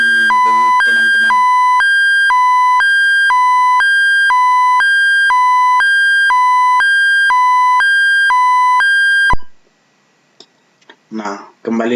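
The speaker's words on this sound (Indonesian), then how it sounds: "Oleh karena itu alarmnya akan berbunyi begitu teman-teman" Repeating two-tone electronic alarm from a storage tank level warning in a VTSCADA juice mixer simulation, alternating steady beeps for about nine seconds before cutting off abruptly, followed by brief faint talk.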